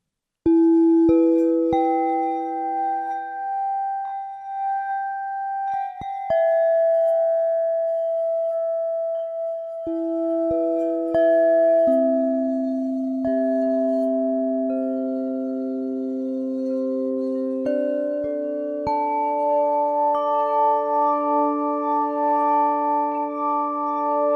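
Shimmering crystal quartz bowl tones from the Emergence Audio Time Crystals sample library ring out in slow, overlapping layers, bell-like notes sustaining and stacking into a glassy ambient texture, no voices.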